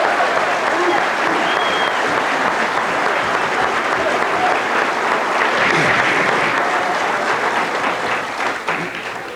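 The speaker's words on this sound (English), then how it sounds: "You got some nerve getting more applause than me." At a 1992 New York ironworkers union Local 40 event, a large audience gives sustained, dense applause, loud and close, that tapers off slightly at the very end.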